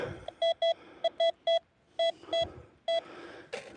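A metal detector pinpointer gives a series of short, clear electronic beeps in uneven bursts, some single and some paired, followed by a brief rustle at the end.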